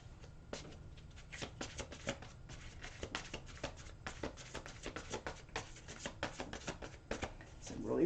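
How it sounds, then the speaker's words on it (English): A deck of wide tarot cards is shuffled by hand in a quiet room, giving soft, rapid riffling and slapping bursts in uneven runs. The sound stays close but faint, and a soft thump comes at the end. "So let me shuffle these a few times"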